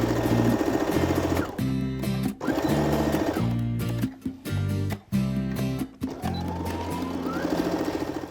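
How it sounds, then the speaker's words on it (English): A sewing machine stitches the side seams of a tote bag, running loud and close in several steady bursts separated by short pauses. "now I'm going to head over to my machine and stitch the side seams of my bag"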